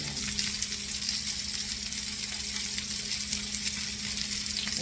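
Steady hiss and crackle of pepper-encrusted salmon searing in a hot pan, a continuous close sizzle with no pauses.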